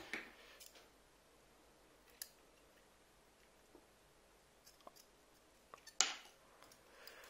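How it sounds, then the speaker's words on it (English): Scissors snip a hang tag off a Steeldive SD1996 dive watch in a quiet room, with a few faint handling clicks before a single crisp cut near the end. "Let's cut off this hang tag."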